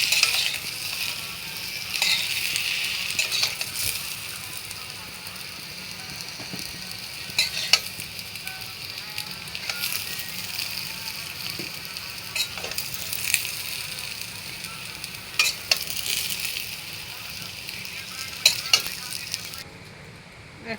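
Potatoes fry in hot oil in a wok, giving a steady hiss with faint crackles, brief stir clatters and occasional louder pops over about twenty seconds.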